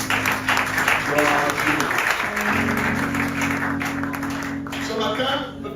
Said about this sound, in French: Est-ce qu'on va acclamer le Seigneur?